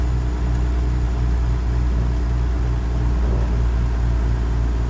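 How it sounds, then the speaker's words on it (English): A Peterbilt 362 truck in American Truck Simulator rumbles with a modded C16 engine, a deep, steady idling drone with a faint rhythmic pulsing throb, continuous and close, with no talking. "Oh yeah, dude, the C16 is one of my favorite ZMods engines."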